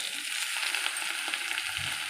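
Small chicken pieces fry in a pan, giving a steady, close, even sizzle with faint crackles and occasional stirring scrapes, no voices over it.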